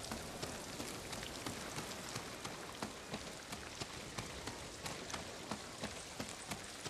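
Steady rain falling on rocks and ground in Ghost of Tsushima, a soft continuous hiss dotted with faint individual drop patters.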